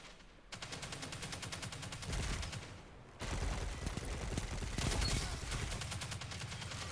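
Sustained automatic gunfire in a PvP video game, loud rapid bursts firing almost continuously, with a brief lull before a second long volley, no talking.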